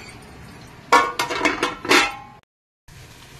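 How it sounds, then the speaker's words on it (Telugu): A quick series of metallic clanks and clinks as a lid is set onto a pot of mushroom curry, followed by a brief moment of silence. "మూత పెట్టేస్తాను."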